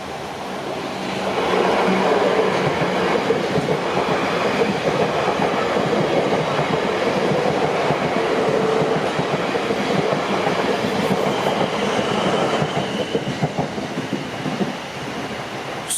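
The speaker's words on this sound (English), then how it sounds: "we got our first train. That's a London Waterloo to Weymouth train." A London Waterloo to Weymouth passenger train rolls past a Southampton level crossing, a steady loud rumble with rhythmic wheel clatter over the rails, holding close for most of the span before easing slightly near the end.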